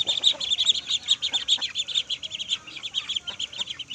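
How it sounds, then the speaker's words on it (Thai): Ducklings on a backyard farm keep up a busy chorus of high, rapid peeps, close and bright, the calls overlapping in quick bursts throughout with no voices. "ดูลูกเป็ด"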